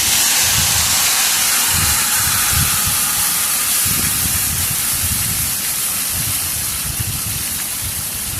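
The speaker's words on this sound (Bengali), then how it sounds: "এবার মেখে রাখা মাছগুলো আমি এর মধ্যে দিয়ে দেবো।" Marinated hilsa fish dropped into hot mustard oil tempered with nigella seeds in a black iron wok, giving a loud, dense, continuous hiss of sizzling oil with low bubbling underneath, no speech.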